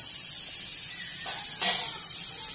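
A pressure cooker, cooking banana blossom, vents steam in a steady hiss, with a brief stronger burst of release partway through.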